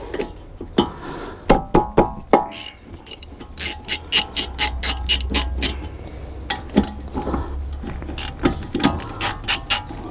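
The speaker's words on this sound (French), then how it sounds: "dans un premier temps, on va déjà enlever l'étrier" Ratchet wrench loosening a 10 mm bolt to remove the brake caliper on a Chrysler 300C, loud close clicking in quick bursts of repeated ratchet strokes with short pauses between, no talk.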